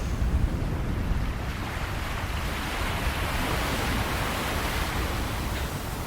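Ocean waves in a steady, unbroken roar of surf, a broad washing hiss that holds at an even, fairly loud level with no voices.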